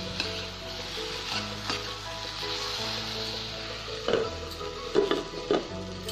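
Onion schezwan chutney cooking in a pan over low heat, a quiet sizzle under a steady hum, with a few clear scraping knocks of a spoon stirring toward the end.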